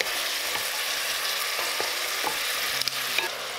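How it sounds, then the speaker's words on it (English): Braised pork belly with soy sauce is stirred in a pan over the heat, a steady close sizzle with light intermittent scrapes and taps of the utensil. "Now add the sauce and stir until combined."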